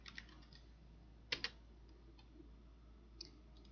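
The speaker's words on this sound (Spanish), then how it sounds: "Presionamos Enter" Computer keyboard keys are pressed while working in an Excel spreadsheet: a quick pair of faint, crisp key clicks, then a few softer taps against a quiet room background.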